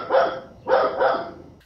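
A neighbor's dog barks two sharp, fairly close woofs about half a second apart, alone with no talk.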